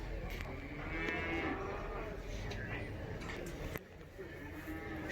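Two-year-old bulls at the Karabulak livestock market, with a low moo or bleating among crowd murmur and background voices in a steady, busy outdoor din.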